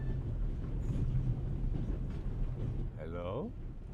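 A train rolls along its rails in The Raven video game as a steady low rumble with a faint rhythmic rattle, and a voice speaks over it near the end.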